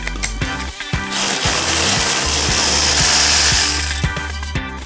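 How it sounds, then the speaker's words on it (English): Power drill boring into a cavity brick wall to fix a clothesline, a loud sustained grinding whine with a few short bursts at start and finish, close up and without talk. "Now first we're going to drill the cavity space."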